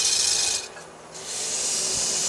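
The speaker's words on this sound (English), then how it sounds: "I'll start up my lathe and turn this baby round." Wood lathe turning a spindle, giving a steady bright high-pitched rasping rub that dips briefly near the middle and then returns, close and continuous with no talk.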